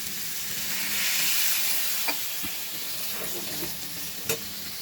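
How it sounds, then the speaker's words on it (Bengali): Water hits a hot pan of spiced pumpkin and shrimp, swelling the steady sizzling hiss for a moment before it settles back, with a couple of light utensil taps, close and alone. "এখন এখানে একটু পানি দিব।"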